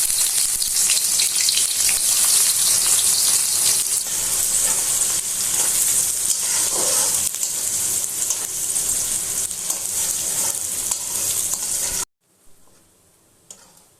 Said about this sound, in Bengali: পেঁয়াজগুলো আমি হালকা করে ভেজে নিয়েছি।